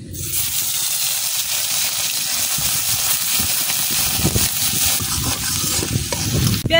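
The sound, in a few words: onion paste frying in fish-frying oil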